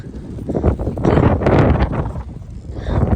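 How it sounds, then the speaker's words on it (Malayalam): Strong outdoor wind buffets the microphone in loud, rumbling gusts that rise and fall for a few seconds, with no clear speech over it. "നല്ല കാറ്റുണ്ട് കേട്ടാ,"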